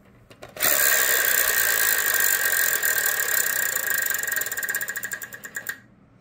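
A Wheel of Fortune game-show wheel spins with a steady, loud clatter that runs for about five seconds, its ticking slowing into distinct clicks near the end before stopping.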